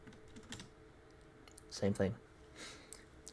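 Keys tapping on a computer keyboard as a password is entered, a short run of soft clicks with a louder pair of strokes near the middle, close and fairly quiet over faint room noise.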